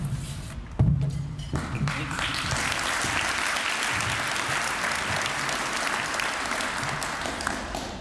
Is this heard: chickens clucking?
no